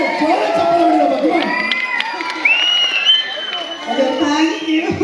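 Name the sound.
audience clapping and cheering at film event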